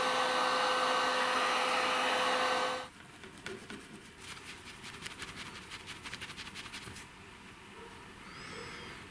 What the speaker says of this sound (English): the clamps and a heat gun to start the actual tinning process